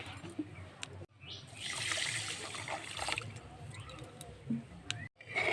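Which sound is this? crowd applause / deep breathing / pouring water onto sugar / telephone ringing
pouring water onto sugar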